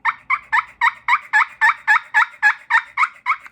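Rapid run of about twelve evenly spaced, loud gobbles made with a spring-loaded push-pull turkey call, each burst sharp and clipped, repeating steadily with no voices over it.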